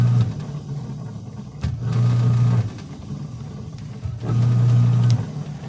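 A washing machine agitator motor runs in bursts, its low steady hum rising twice for about a second each time and then dropping back, close by and with no talk.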